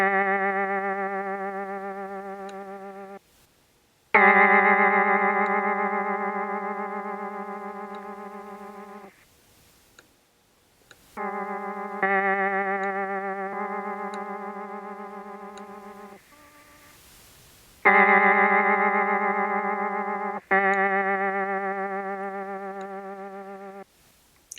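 Lofi beat processed through an RC20 vintage tape-style plugin, with warm, sustained synth chords played in separate phrases, each swelling and slowly fading before short silent gaps. No voices are heard.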